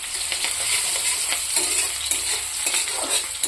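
Onions sizzle and fry steadily in a hot pan, a continuous crackling hiss with occasional stirring scrapes, close and fairly loud.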